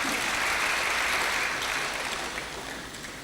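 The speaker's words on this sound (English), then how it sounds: "Please, let's clap for them." Audience applause rolls on as steady, full clapping from many hands, loud at first and easing slightly toward the end.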